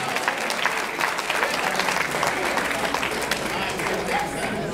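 Guests at a wedding reception give a sustained round of applause, dense steady clapping filling the hall, with some voices and cheering mixed in beneath.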